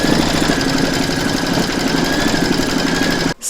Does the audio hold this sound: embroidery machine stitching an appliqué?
yes